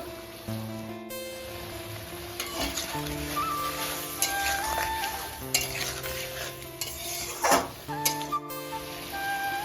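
Mustard masala with chilli powder sautéing in a pan, steady sizzling broken by clattering stirs and scrapes, with a musical tone running underneath.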